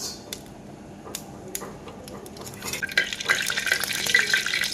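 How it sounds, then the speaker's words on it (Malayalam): Mustard seeds in hot coconut oil in a Kerala kitchen start with a few scattered sharp pops and clicks, then build into a dense, crackling splutter of rapid pops over a soft sizzle. "നമ്മുടെ കടുക് പൊട്ടി തുടങ്ങിയിട്ടുണ്ട്."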